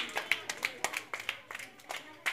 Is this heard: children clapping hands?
yes